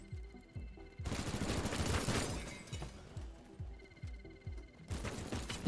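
Rapid automatic gunfire bursts out in the video game Teardown, loud and sustained with shattering debris, between lighter rhythmic repeated shots, a brief pause, and a renewed burst at the end.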